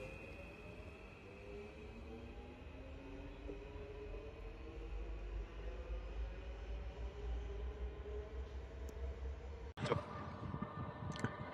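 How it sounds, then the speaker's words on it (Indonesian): Metro train approaching a station on the Taksim line, a rising low rumble with faint rail whine that builds steadily, then a sharp clank and squeal near the end as it arrives, heard from the platform without talk. "Kereta udah mau datang, bunyinya udah kelihatan"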